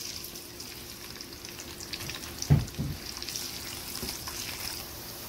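Onions hit hot oil in a pan for a desi qeema karela dish, giving a soft continuous sizzle with a sharper crackling burst as they go in, then steady frying.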